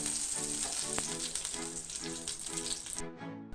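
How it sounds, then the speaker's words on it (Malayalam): Ghee sizzles in a pan on the stove with a steady, crackling hiss that stops abruptly near the end. "വീണ്ടും ചട്ടിയെടുപ്പത്ത് വെച്ച് ലേശം നെയ്യ് ഇട്ട് കൊടുത്ത്"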